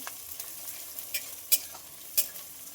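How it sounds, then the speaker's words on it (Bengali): Onions frying in a pan for mutton curry give a soft, steady sizzle, punctuated by a few sharp clinks and scrapes of a spoon stirring, close and quiet with no talking. "রান্না করতে মাটনের জন্য একটু পেঁয়াজ ভাজতে দিলাম"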